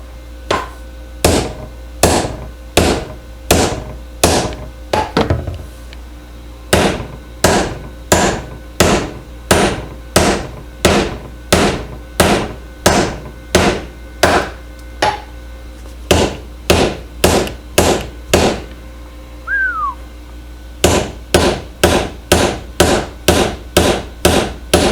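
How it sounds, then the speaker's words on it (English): Steady hammer blows on a metal workpiece at a TIG welding bench, about thirty sharp strikes in a regular rhythm with a brief pause midway, loud and close with no talking. "Probably need a bigger hammer."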